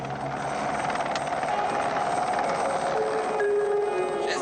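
A helicopter flies overhead, its rotor and engine making a loud, steady, broad drone that holds for the whole stretch with no break.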